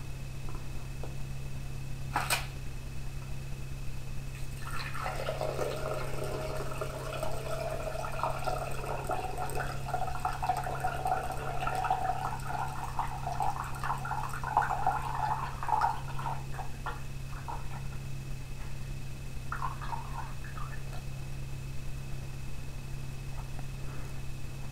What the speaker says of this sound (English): What we'll do is pour off the buttermilk,